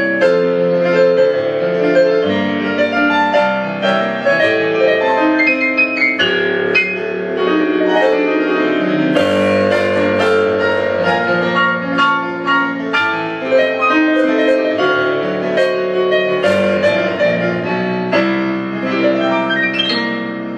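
Korg C-50G digital grand piano with its lid in the low position, played continuously with full chords and flowing melody lines, close and sustained with no speech.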